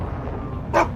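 A mastiff gives a single short bark near the end, ringing out loud and close over a low, steady rumble of background noise in a sci-fi game scene.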